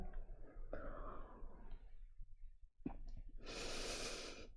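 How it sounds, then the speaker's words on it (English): A slow, audible exhale during a guided yoga breathing exercise, a long soft breath that fades out before a stronger breathy rush near the end, with no talking. "Release your breath as you come down."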